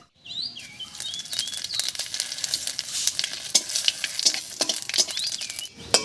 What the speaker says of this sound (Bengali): মাছ ভাজার তেলের মধ্যেই ফোড়ন দেব আর ফোড়ন দেব হাফ চামচ মতো গোটা জিরা আর দুটো তেজপাতা দিয়ে